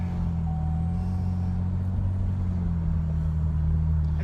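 A Camaro fitted with a Cherry Bomb muffler idles and rumbles steadily, its deep, loud exhaust drone close and continuous throughout with no talking.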